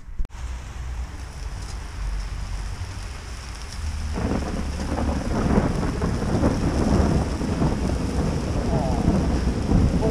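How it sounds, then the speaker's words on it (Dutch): A thunderstorm rumbles with thunder while steady rain falls, and the rain grows heavier and louder partway through with dense pattering on surfaces nearby. "Bliksem, regen en barbecue."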